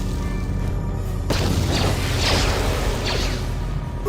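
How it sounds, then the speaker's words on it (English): An explosion in the video game Star Wars: Knights of the Old Republic: a sudden booming burst followed by a rumbling, crackling tail and whooshing debris over steady background game noise. "Explosion!"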